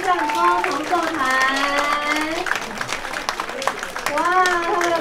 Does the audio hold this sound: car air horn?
no